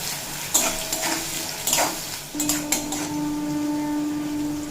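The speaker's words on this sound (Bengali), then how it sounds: "দিয়ে খুব ভালোভাবে ভেজে নেব উচ্ছে বা করলা যদি এইভাবে তেলে ভেজে নেওয়া হয় তাহলে অনেকটাই কম তেতো লাগে" Bitter gourd frying in oil, a steady close sizzle broken by several louder clinks and scrapes of a utensil against the pan.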